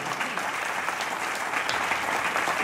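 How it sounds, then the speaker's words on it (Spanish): A church congregation breaks into steady applause, dense clapping spread across the room with a slight swell at the end, no speech over it. "Dale un aplauso al Señor."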